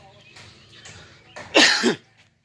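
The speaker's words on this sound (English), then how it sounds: "My apologies there for the coughing." A single harsh, close cough from a person with bronchitis bursts out after some quiet rustling and a faint voice, then fades to silence.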